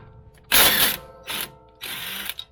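An impact wrench spins a strut bolt on a Honda in three close, loud bursts, a long rattling hammer followed by two shorter ones with brief pauses between.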